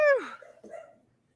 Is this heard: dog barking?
yes